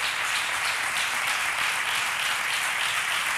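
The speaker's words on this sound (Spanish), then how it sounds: "Un aplauso para la banda y para nuestras músicas" A studio audience on a television show claps for a band of four musicians, a sustained, even wash of applause heard at a moderate distance with no talking.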